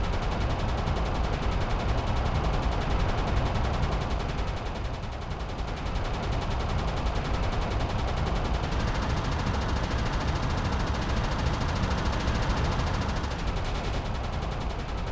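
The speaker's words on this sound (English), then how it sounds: "is that supposed to be the turret firing?" Ship turret guns in the submarine game Uboat fire continuously in a steady, rapid pounding, loud and sustained for the full length with only a slight dip midway.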